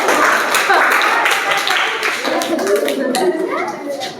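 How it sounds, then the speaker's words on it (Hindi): Children in a classroom clap their hands together, a dense burst of sharp, overlapping claps that runs throughout at close range, mixed with children's voices. "वाह, सही, ताली बजाओ।"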